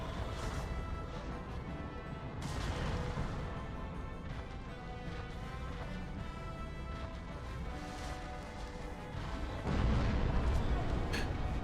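Loud, dense booming blasts and crashes from a dragon boss's explosion attacks in the Dark Souls fight against Seath the Scaleless, with a heavier impact near the end over continuous game music and effects.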